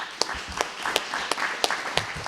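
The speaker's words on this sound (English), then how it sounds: "give a round of applause to our candidates for their hard work tonight" An audience claps for the candidates at the close of an evening candidate forum, a light scattered applause with distinct individual claps and a modest crowd, fairly close and with no speech.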